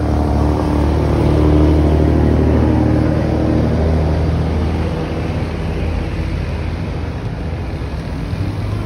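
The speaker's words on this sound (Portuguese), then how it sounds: "Pera aí, deixa o caminhão passar." A truck passes close by on a road in Brazil, a loud, steady broadband engine and tyre roar that holds for several seconds and then eases slightly as it goes by.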